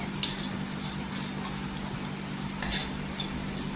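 Grated dried coconut being dry-roasted in a pan, a faint steady low hum with a few soft scrapes and clinks of a spatula against the pan, close and quiet, no talking.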